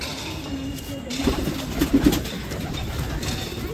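A Madrasi pigeon gives a few soft, low coos close by, in short clustered bursts over a steady background hiss.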